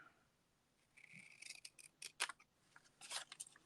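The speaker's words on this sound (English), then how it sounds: "we're going to cut from this score line" Scissors cut along a score line in paper, producing a run of close, crisp snips and scraping rasps that come in uneven bursts, quiet and with no talk.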